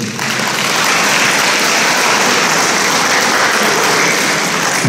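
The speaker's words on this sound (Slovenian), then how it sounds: "Aplavz še za vas." Loud, sustained applause from the audience at a regional youth firefighter quiz competition held in a school in Mengeš, clapping rising quickly at the start and holding steady and close throughout.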